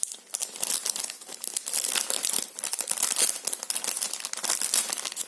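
Small kraft paper gift bag being opened, with steady close crinkling and crumpling of stiff paper and brief tearing-like rustles throughout, loud and alone.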